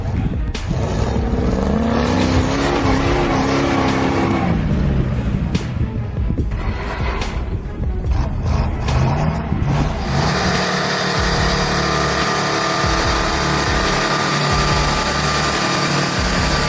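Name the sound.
Oshkosh M1070 military truck driving off-road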